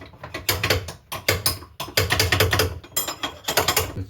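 A ratchet wrench works loose the front wheel of a Honda Dio BS6 scooter, rapid loud clicking in repeated strokes with brief pauses between, close up and with no talking.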